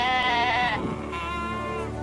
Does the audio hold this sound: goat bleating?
yes